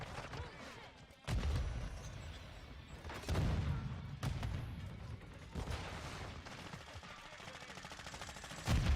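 Rapid gunfire bursts from the video game Modern Warfare 2, loud repeated volleys with sharp onsets recurring across the stretch, mixed with game effects and no clear talk.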